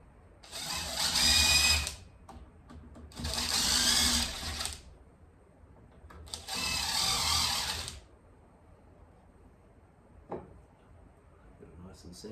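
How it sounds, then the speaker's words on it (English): A power drill drives screws into a snake enclosure during assembly, three loud whirring bursts of about two seconds each with short pauses between them, followed by a faint tap and quiet room noise. "So I'll just go ahead and mark my holes, do some drill bits, and start screwing them in."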